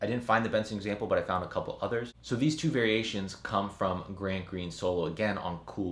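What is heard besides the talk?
No distinct noise like a dog, phone or traffic.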